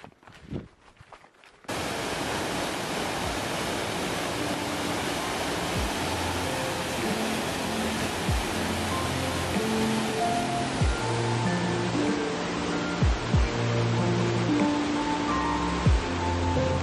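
A waterfall on a mountain hike pours in a steady, loud, dense rush that fills the scene without a break after a short quieter moment at the start.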